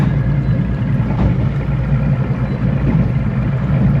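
Fishing boat running on open water, a loud steady engine rumble with broadband wash and hull noise, continuous and close with no voices.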